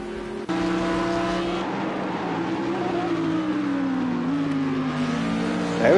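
FIA GT3 race cars in Project CARS 2 scream past in an online league race, one engine note holding steady and then sliding through pitch changes as the car revs and shifts, loud and continuous.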